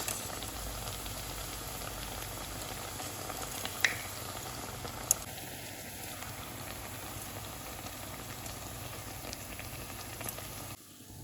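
Beetroot vada shallow-frying in hot oil over a medium flame, a steady close bubbling sizzle that runs unbroken throughout, with a couple of brief clicks and a short tone partway through.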